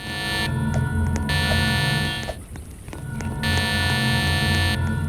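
Loud electronic beeping pulses in steady bursts, a harsh buzzing tone that cuts out briefly near the middle and then resumes.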